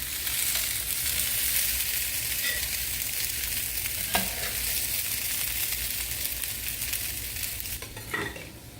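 Smoked sausage hash sizzles and fries steadily in a pan on the stove, with a constant close hiss and an occasional utensil tap or scrape.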